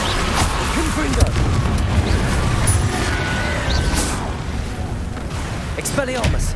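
Confringo blasting spells in Hogwarts Legacy go off as repeated loud explosions and crashes, layered with battle noise, while a voice speaks over the chaotic, continuous combat din.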